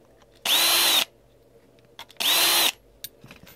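A power case trimmer trims .223 brass cartridge cases in two loud, even whirring bursts about half a second each, separated by a short pause and light handling clicks.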